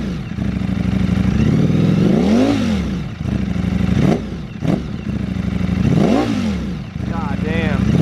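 A motorcycle engine, a custom bike with magnesium wheels and new crash protection, revs hard in three rising-and-falling sweeps, loud and close, idling rough between blips.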